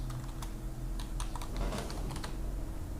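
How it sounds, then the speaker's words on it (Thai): Fingers type steadily on a computer keyboard, producing a soft patter of quick key clicks over a low background hum for about three seconds. No one speaks. "พิมพ์เข้าไปอย่างนี้"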